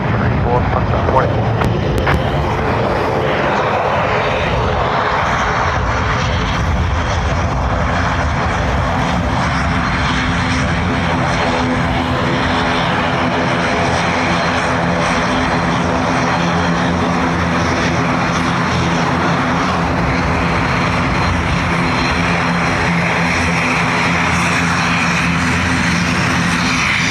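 Aircraft on approach to runway 28 left at Dublin Airport in strong gusty wind, a steady broadband engine roar with droning tonal hum holding loud and continuous throughout.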